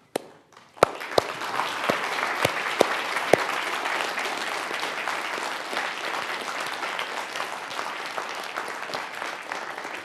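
Sustained audience applause at a lecture, steady dense clapping after a few sharp opening claps, filling the whole stretch without talk over it.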